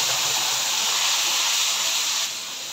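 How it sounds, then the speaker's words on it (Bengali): Spice paste hits hot oil over cumin seeds in a pan for a thin rohu fish curry, giving a bright, steady sizzling hiss up close that eases slightly near the end. "এখন আমি আমার বানিয়ে রাখা মশলাটা দিয়ে দিব।"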